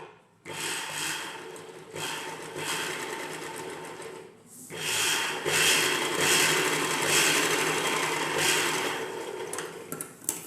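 A sewing machine stitches the lining of an umbrella dress, giving a close, steady whirring run that pauses briefly and then resumes with the same even mechanical buzz.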